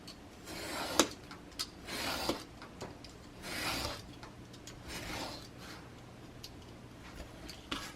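Craft paper being trimmed by hand, with soft rasping cuts and light rubbing strokes, a few sharp ticks and clicks, quiet and close with gaps between strokes.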